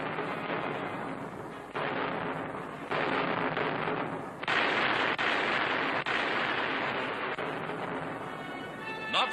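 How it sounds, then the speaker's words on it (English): Heavy artillery fire from tanks and big guns during the 1943 British attack on the Mareth Line in Tunisia, a dense continuous rumble of blasts and crackling detonations, loud and sustained throughout with sharper bursts standing out. "the British were attacking the entire Mareth line with tanks and big guns"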